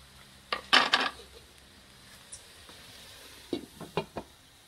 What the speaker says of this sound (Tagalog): Simmer natin dyan.